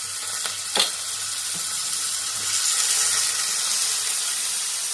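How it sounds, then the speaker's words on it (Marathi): Dried bombil, potato and radish fry in a pan with masala, a loud steady sizzle and a few sharp clinks of a spoon against the pan early on. "बोंबील आणि मुळं टाकून घेऊ"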